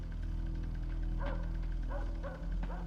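A dog barks in Evil Dead: A Fistful of Boomstick on PS2, with a few short, faint yips and barks scattered over a dense, steady game-ambience drone.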